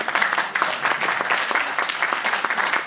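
Studio audience at a stand-up science comedy show breaks into steady applause, a dense wash of clapping that holds fairly loud and even for about three seconds with no voice over it.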